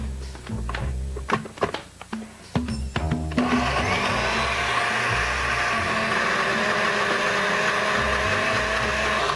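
A blender runs continuously, mixing peanut butter into a thick paste. It opens with a few choppy, pulsing bursts and clatters, then settles into a loud, steady whirring drone for the remainder, with no talking.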